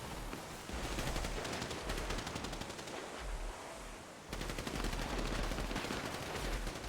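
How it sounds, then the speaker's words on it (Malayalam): Rapid automatic gunfire from a vehicle in a battle-royale tournament match, loud repeated bursts of shots with a brief pause near the middle before firing resumes. "വണ്ടിയിലിരുന്ന് വെടിവെക്കുന്നു"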